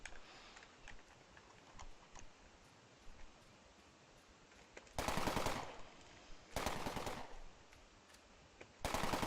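Automatic gunfire from the video game Entropia Universe comes in three loud rapid bursts, each lasting under a second, with quieter ticking and clicking between them.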